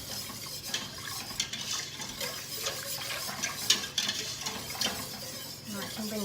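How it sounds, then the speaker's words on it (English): A whisk works through lasagne sauce in a pan to break up lumps, making steady quick scraping and faint metallic clinks against the pan at a moderate level. "The whisk breaks up all the lumps"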